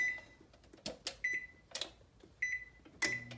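An oven control panel beeps while its temperature is being set to 375 degrees: four short, faint, high electronic beeps spaced about a second apart, along with soft button presses and clicks in a quiet kitchen.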